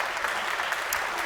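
An audience at a panel discussion on heretical rabbis of the Talmud claps to welcome a panelist, a short, full burst of steady applause with no voices over it.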